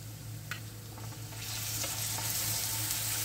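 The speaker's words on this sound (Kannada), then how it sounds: "1 ನಿಮಿಷ ಚೆನ್ನಾಗಿ ಫ್ರೈ ಮಾಡಬೇಕು." Ginger garlic paste frying with chopped onions in a pan, a soft steady sizzle with faint stirring scrapes that grows a little louder partway through, close by with no voices.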